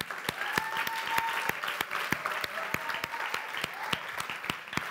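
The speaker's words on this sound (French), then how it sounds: "Il y a toute l'équipe, vous pouvez les applaudir" Audience applauding a youth project team at a Bordeaux event, a moderately quiet, steady patter of many hands with a few sharper, distinct claps standing out near the front, faint voices beneath.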